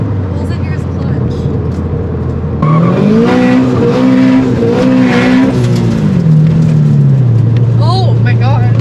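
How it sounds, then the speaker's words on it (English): A turbocharged E85-fuelled Scion FR-S does a burnout: loud engine revving and a sustained squeal of spinning tires, rising and falling in pitch over several seconds. The car is close by, with a brief higher squeal near the end. "That was a good burnout."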